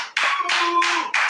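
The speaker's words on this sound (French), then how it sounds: "Est-ce qu'on peut applaudir le Seigneur?" Congregation clapping hands during an evening prayer service, loud rhythmic bursts of claps in a steady beat with a held sung or hummed tone underneath.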